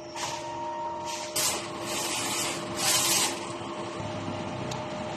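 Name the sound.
DTF printer running a nozzle test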